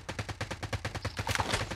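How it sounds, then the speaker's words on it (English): Rapid gunfire in an online shooter game, a fast, evenly spaced burst of about a dozen sharp, loud shots in under two seconds, with some extra clatter toward the end. "He's got a shotgun, Tony, he's got a shotgun."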